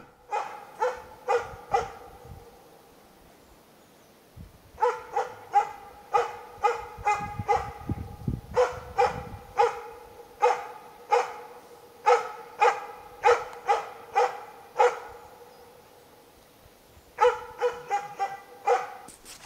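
A Jämthund elkhound barks at bay at moose in a dense forest plantation, repeated sharp barks in quick, steady runs broken by short pauses, clear and moderately near.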